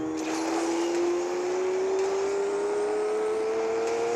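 The Aston Martin DB9 Coupé in a multiplayer racing game, its engine note rising smoothly and steadily as the car accelerates, loud and continuous throughout with no speech over it.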